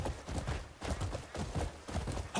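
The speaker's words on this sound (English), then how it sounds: "I see some horses up ahead" Horse hooves clip-clop in the video game Crimson Desert, a quick, even run of muffled thuds from several strides close by with no pause.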